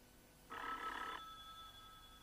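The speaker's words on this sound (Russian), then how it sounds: "Телефончик звонит." An old telephone bell rings once in a quiet room, a single brief buzzing ring of under a second, fairly faint, followed by a low steady hum.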